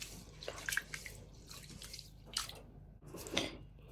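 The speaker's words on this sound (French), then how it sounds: "Pour commencer, je vais laver mon riz 2-3 fois." Rice being washed in water in a pan, with splashing, swishing and dripping in a few uneven surges, close and moderately quiet.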